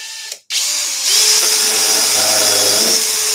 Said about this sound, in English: the kind of weight of the drill to apply the pressure on the cut